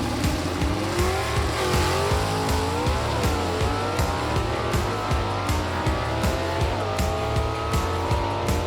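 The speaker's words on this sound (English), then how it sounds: "64 Galaxy 500 of Tim Haynes out of Chesney, South Carolina sits here at the ready, going to try to slay the giant" Drag race at a Southeast Gassers event with a 1964 Galaxie 500 in Superstock racing: loud, steady engine roar with rising revs and gear-change dips throughout, close and continuous with no talk.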